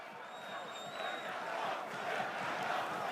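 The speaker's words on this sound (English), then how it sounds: "Crowd are calling for it." A rugby stadium crowd at a Top 14 match between Perpignan and Clermont roars in a sustained, swelling wall of voices and whistles, demanding a card from the referee, with a shrill whistle tone early on.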